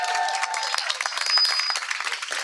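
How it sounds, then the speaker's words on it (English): An audience at a book launch breaks into applause, a dense wash of clapping that stays steady and fairly loud throughout. "I think we should all applaud that, first of all, Sue Anstis"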